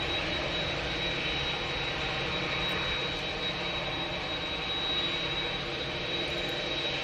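An Aer Lingus jet airliner coming in to land gives a steady, fairly faint engine whine and rumble from a distance, with a thin high tone running through it and no voices.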